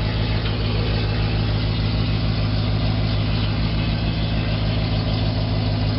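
A 2011 Chevrolet Silverado pickup with long-tube headers idles steadily with a deep, throbbing exhaust rumble and an even pulsing rhythm, close and constant throughout.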